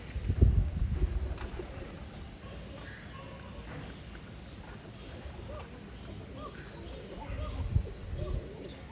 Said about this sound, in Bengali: খুবই মানসম্মত কবুতর এই কবুতরগুলো